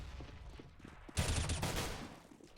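Gunfire in a Counter-Strike match on the Inferno map during a LAN grand final: a quiet patter of sounds, then a sudden burst of shots midway that tails off.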